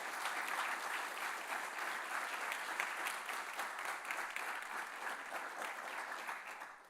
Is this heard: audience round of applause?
yes